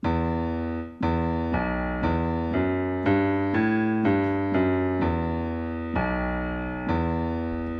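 A low piano bass riff plays alone, repeated bass notes stepping through a steady pattern, each struck note ringing clearly and fairly loud.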